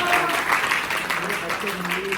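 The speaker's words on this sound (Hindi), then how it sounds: "जोरदार ताली" Applause from a party crowd cheering a guest, sustained clapping with a voice speaking over it throughout.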